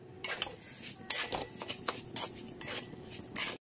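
Soaked Gobindobhog rice being stirred in hot ghee with spices and raisins for chicken pulao: a spoon scrapes and clinks irregularly against the pan, fairly quiet and close, with no talking.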